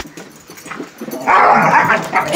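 German Shepherd puppies barking and whimpering as they play, close and loud, with short yips building into a sustained burst of excited puppy noise.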